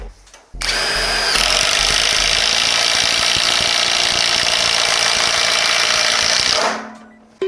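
A cordless impact driver drives a fastener into material, a loud continuous buzzing hammer rattle lasting about six seconds after a brief start, then cutting off abruptly, close up.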